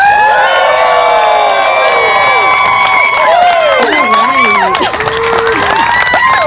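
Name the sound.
wedding guests yelling, screaming and clapping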